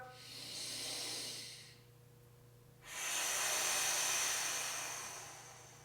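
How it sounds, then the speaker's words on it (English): A deep breath during a breathing exercise, a long airy inhale followed by a brief pause and then a strong, drawn-out exhale, close and steady over a low hum. "One more big breath."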